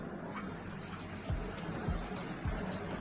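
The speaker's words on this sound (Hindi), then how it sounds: "फिर पानी हम इसमें शामिल करेंगे जिसमें हमारी प्याज और ये गोश्त अच्छे से गल जाए।" Water is poured into a cooking pot with onions and beef for white beef korma, a steady close gushing fill with a few soft knocks, and no talk.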